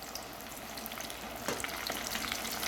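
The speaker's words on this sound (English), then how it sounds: "so I am going to drop my ribs in the grease" Country-style pork ribs deep frying in hot grease, giving a dense, steady crackling sizzle that swells slightly as the pieces settle into the oil, close and continuous with no voices.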